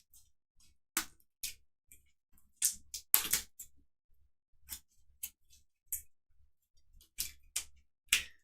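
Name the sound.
playing cards being shuffled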